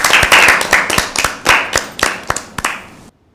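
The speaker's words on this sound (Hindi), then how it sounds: "टीम ए के लिए ज़ोरदार तालियां।" A small audience claps for a team in a Bible quiz, with a burst of rhythmic, fairly close hand claps that thin out and stop abruptly after about three seconds.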